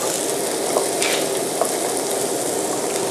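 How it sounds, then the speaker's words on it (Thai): Onions stir-fry in a pan over low heat, giving a continuous close sizzle with a few faint scrapes from stirring, no voices. "จากนั้นผมก็ลงหอมใหญ ่นะครับลงไปผัดนี่ผมใช้ไฟอ่อนนะครับ"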